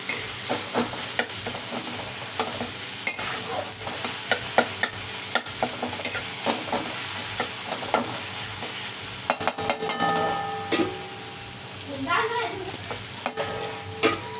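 Soft tomato frying and being stirred in a kadhai, a steady sizzle with repeated scraping and clinking of the spoon against the metal pan, close and alone without talk.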